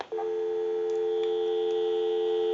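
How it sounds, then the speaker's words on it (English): A steady, unbroken dial tone hums over the line of an antique Cracraft Leich wooden wall telephone, clear and continuous from start to finish. "we'll go ahead and give you some dial tone"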